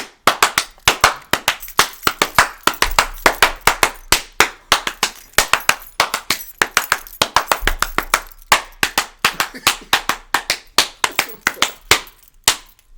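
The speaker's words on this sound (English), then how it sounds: "I made that up as I was clapping" Sharp, rhythmic hand clapping in a steady pattern of loud, close claps, with brief gaps between groups and no talking.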